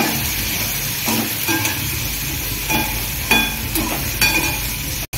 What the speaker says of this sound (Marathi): याला चांगलं हलवून घ्यायचं।